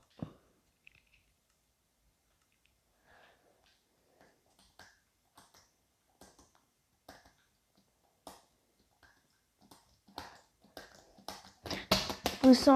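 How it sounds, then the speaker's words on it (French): Scattered light keyboard clicks and taps, sparse at first and growing denser and louder toward the end, close by with quiet surroundings. "Vous entendez ce clavier"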